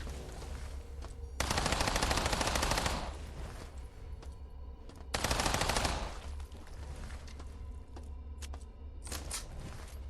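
Rapid automatic gunfire from the System Shock 2023 remake, two loud sustained bursts of a second or more each, separated by quieter ambient game hum.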